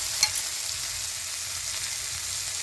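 Ginger paste fries in hot oil in a pan for a tengra fish curry, giving a steady, even sizzling hiss throughout with a single faint click near the start.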